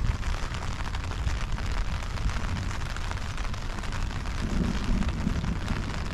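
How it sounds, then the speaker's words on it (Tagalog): Dense, steady rain pattering and hissing over a low rumbling wash, loud and close, with no one speaking. "Sana hindi lumakas yung ulan."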